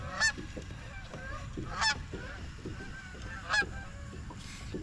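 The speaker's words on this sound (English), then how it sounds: "here's a whole flock of them here. A whole gander of geese." Geese honk overhead as a flock flies past outdoors on a windy fall day at a fishing spot, three distinct bursts of loud honking calls spaced about a second and a half apart over a steady wind rumble.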